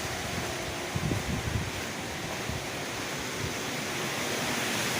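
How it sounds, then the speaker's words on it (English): Wind blowing steadily outdoors after rain, a broad continuous rushing roar that stays fairly even for the whole stretch, with faint low buffeting gusts. "Just a lot of wind now."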